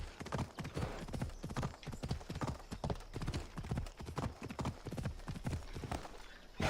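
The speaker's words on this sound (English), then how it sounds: "Don't mind the flaming horse" Horse hooves clop in a quick, steady galloping rhythm in the video game Assassin's Creed Odyssey, close and prominent throughout, with no voices over them.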